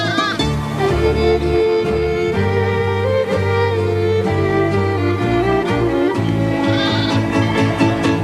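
A few-days-old lamb, separated from its mother, calls out in a long, insistent series of close, loud, quavering bleats with barely a pause between them.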